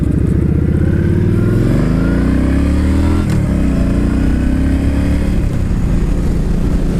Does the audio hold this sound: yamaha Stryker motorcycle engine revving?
yes